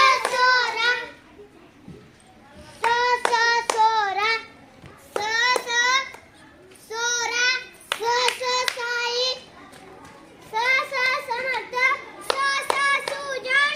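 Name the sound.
children clapping hands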